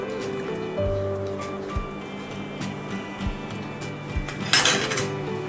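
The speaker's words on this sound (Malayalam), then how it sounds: "ഇത് നന്നായി ഇളക്കി കൊടുക്കുക." Sugar syrup is stirred in a metal pot for a rose-water dessert, a spoon scraping and clinking against the sides in a steady close rhythm, with a brighter clatter near the end.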